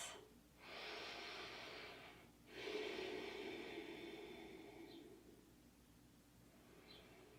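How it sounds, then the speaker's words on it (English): Slow deep breathing during a post-paddling shoulder stretch yoga session, soft airy inhales and exhales in long swells, close and quiet with no talking. "let's take 3 big deep breaths"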